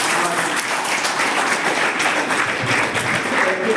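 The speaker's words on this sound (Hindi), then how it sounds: "मैं एक बार आप सबसे रिक्वेस्ट करूंगा जोर से ताली बजा करके" A large audience at a dolphin conservation awareness event claps loudly, a steady, dense wall of applause sustained without pause from start to finish.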